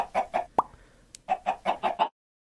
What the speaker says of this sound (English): Yo chicken! Give me some eggs!